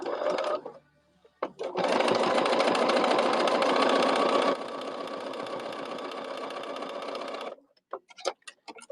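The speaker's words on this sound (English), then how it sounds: "I got all of that top stitching done" A sewing machine runs fast and close while top stitching a pin cushion, whirring in a steady rapid rhythm for several seconds, slowing slightly partway, then stopping with a few clicks.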